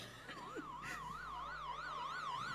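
An ambulance siren wails in a steady up-and-down cycle, clear and fairly prominent, with a faint low hum and a few brief knocks in the background.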